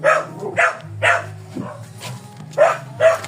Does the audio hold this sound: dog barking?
yes